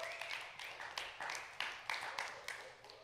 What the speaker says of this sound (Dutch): geeft hem een geweldige applaus